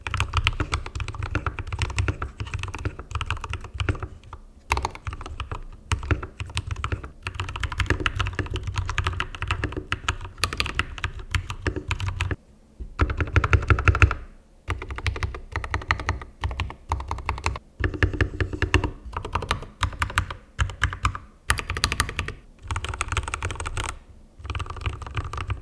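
Mechanical keyboards fitted with Keychron yellow switches are typed on steadily for a long stretch, a close, busy run of clacking keystrokes with only a few brief pauses.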